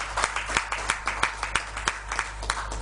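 An audience applauds a leader with rhythmic, evenly spaced claps that sound like a smaller group clapping in unison. The claps are moderately loud over a low, steady hum.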